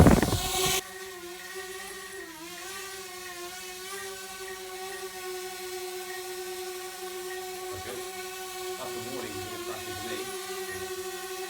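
A DJI Spark drone flies in ATI mode, a steady high-pitched whirring buzz of small propellers that holds close and fairly loud, shifting slightly in pitch as it maneuvers, after a brief burst of noise at the start.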